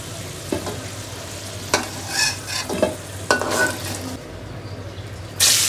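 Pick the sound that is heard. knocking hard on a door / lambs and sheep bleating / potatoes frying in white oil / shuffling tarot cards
potatoes frying in white oil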